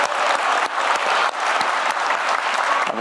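Audience applause at a town hall meeting in Jeonbuk, South Korea: dense, steady clapping from a large crowd fills the whole stretch at an even, full loudness.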